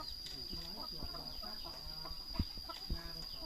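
Red junglefowl calling outdoors, a short series of clucking and crowing notes over steady insect or cricket buzz in the background.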